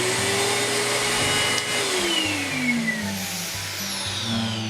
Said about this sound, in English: The first position turns on just the vacuum.